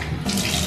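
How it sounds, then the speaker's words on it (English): Shower water running in a college dorm, a brief steady hiss of spray that grows slightly fuller partway through. "I really need to take a shower."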